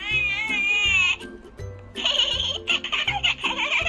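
A talking baby doll toy plays a giggling sound: bright, wavering electronic baby giggles in short bursts, a brief pause, then more choppy chuckles, loud and close.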